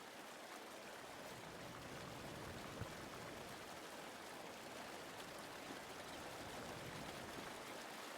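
Steady rushing river water from Farming Simulator 22 on the Elk Mountain, Wyoming map: a continuous, even wash of flowing stream noise at moderate level, with no voices.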